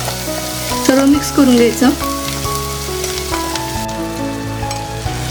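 Cumin, bay leaf, cinnamon, cardamom, cloves and ginger garlic paste sizzling in oil for a Konkani-style fresh cashew masala, a steady fry under someone speaking briefly.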